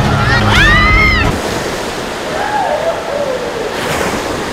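Artificial waves surge through an indoor wave pool at Lalandia water park, a broad, constant wash of water with squeals and shouts of bathers over it early on.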